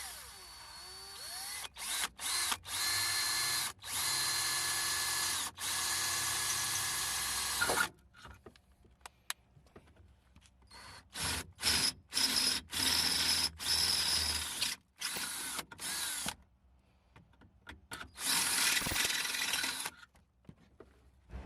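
Power drill boring a hole through the strut tower area of an Infiniti G35 to fit a strut tower brace fastener, a loud whirring in several bursts that start and stop, with short pauses between runs.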